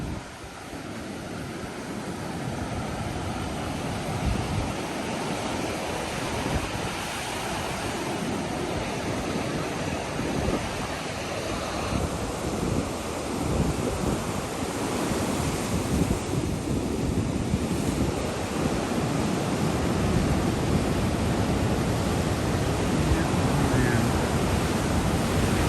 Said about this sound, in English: there's no way to get there without getting slammed by these waves.